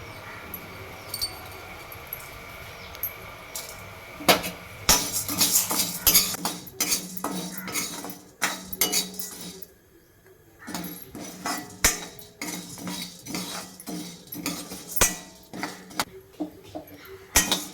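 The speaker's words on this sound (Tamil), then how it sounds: "கடாய் சூடு எரிச்சு இப்போ நம்ம கடலைப்பருப்பு வறுத்துக்கலாம்" Dry chana dal being roasted in a hot kadai for instant puliyodharai powder, with repeated metallic scraping and clinking of a spatula against the pan and dry rattling of lentils, close and fairly loud, briefly pausing midway.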